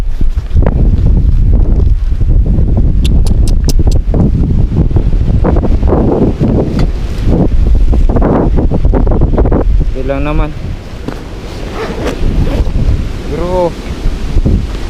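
Strong wind gusts across a microphone at the seaside during moto camping, with surf beneath, a loud buffeting roar rising and falling throughout while people speak briefly over it.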